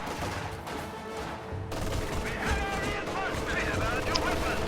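Close air support anti-infantry strafe in a video game, heard as a dense, continuous rumble of rapid gunfire and explosions that swells partway through, with a voice talking over the battle noise.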